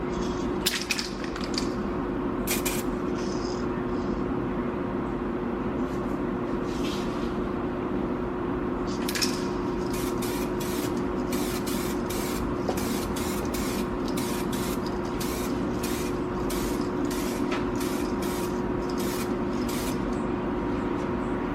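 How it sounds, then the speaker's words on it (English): Repeated short hissing bursts of SprayMax 2K aerosol paint on a car front lip, close by, with pauses between them over a steady low mechanical hum. "now it's time to spray the Spray Max"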